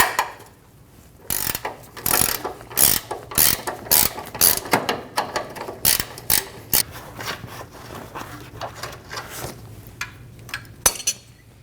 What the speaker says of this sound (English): I'm going to use a 21mm wrench to remove the nut.